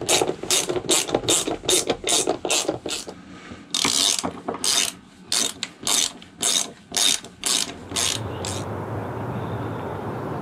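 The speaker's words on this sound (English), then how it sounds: "Now it's time to lay it down and tighten up the bolts and nuts." A ratchet wrench tightens bolts and nuts on a boat deck, giving close, loud rapid clicking strokes in repeated bursts with short pauses, then fading to a low background hum.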